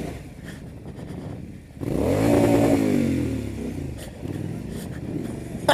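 A Triumph Scrambler motorcycle engine rises in a strong rev, swelling and then falling back to a throaty idle, with light clatter and a few ticks close by afterward; no one speaks.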